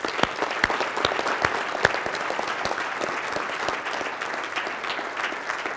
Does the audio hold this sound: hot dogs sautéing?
no